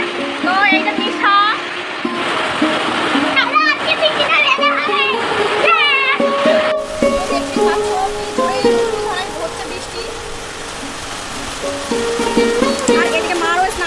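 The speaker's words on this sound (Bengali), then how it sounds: "বাইরে প্রচুর বৃষ্টি হচ্ছে" Heavy rain pours outside a house in the morning, a steady, dense hiss that grows fuller partway through and runs continuously under children's voices and adult talk.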